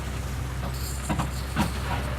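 A small garden tour train runs close by with a steady low rumble and a few soft clacking bursts, with no voices.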